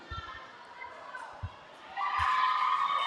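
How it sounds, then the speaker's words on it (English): Crowd at a junior roller derby bout swells into a loud, sustained cheer about two seconds in, following quieter murmuring broken by a few low thumps. "Big cheer for that Cookies jammer."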